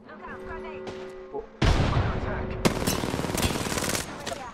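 Rapid gunfire bursts erupt in an Apex Legends match, a sharp opening blast followed by sustained rattling automatic fire, loud and close, with a faint voice briefly audible beforehand.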